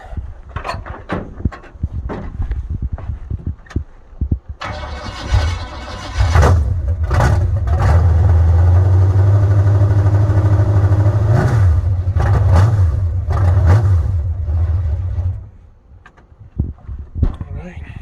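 A Honda K20 engine, freshly installed and with wiring left loose, cranks with a few sharp clatters, then fires and runs at a loud, steady idle for about ten seconds before shutting off, followed by light clanks.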